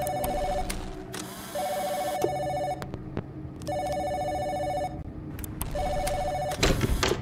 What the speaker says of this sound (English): We still get a phone call.